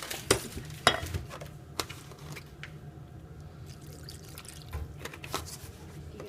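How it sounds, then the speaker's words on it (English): Soft wet stirring and scraping of a spoon through a cheese sauce for mac and cheese as milk is added, with a few sharper clinks against the pot over a low kitchen hum. "I'm just going to mix this all together. I'm going to add in some more milk."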